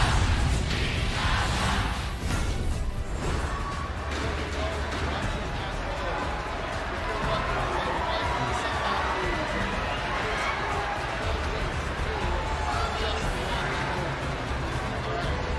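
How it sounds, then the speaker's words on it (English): A large arena crowd at the Mobile Legends: Bang Bang M5 Championship esports final roars and cheers steadily for AP Bren, a loud, dense wash of noise that runs throughout. "The crowd is giving that extra bit of momentum for AP Bren"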